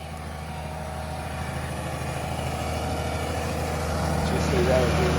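Farm tractor engine pulling a drag across a field, a steady low rumble running at modest revs throughout and building slightly toward the end, with a voice speaking over it.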